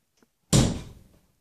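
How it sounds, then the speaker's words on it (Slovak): A door bumped shut with someone's hips in a hallway, landing as one loud, close thud with a brief rattling decay and nothing else around it. "práve som tverkovaním zavrel dvere"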